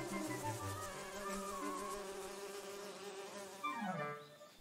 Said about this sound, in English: Now the bees are angry. Now they're chasing Terran.